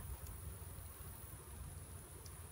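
Honey bees buzzing around a hive frame during a nuc transfer into a hive, a steady low drone of many bees close by, fairly quiet and continuous, with no talking.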